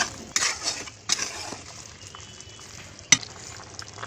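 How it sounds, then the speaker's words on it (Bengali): Soybeans and potatoes frying in a pan, stirred with a utensil that scrapes in short bursts over a low sizzle, with one sharp metallic clink near the end, close and moderately loud. "সয়াবিনটা দিয়ে আবার নেড়ে নেবো ভালো করে।"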